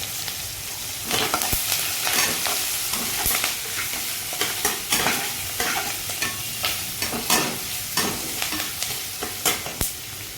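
Dried red chillies and curry leaves sizzling in hot oil for an Andhra-style carrot fry, a steady close crackle with frequent sharp pops and spatters, no voices.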